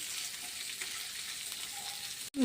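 Onions frying on medium flame in oil, a steady close hiss of sizzling that holds evenly, ending in a sharp clatter.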